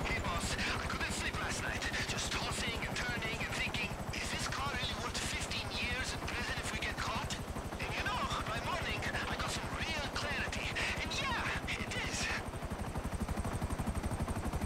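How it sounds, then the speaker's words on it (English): Helicopter flying in GTA Online, a steady rotor chop and engine roar running throughout, mixed with bursts of gunfire and other game effects. "So I already had my helicopter out here"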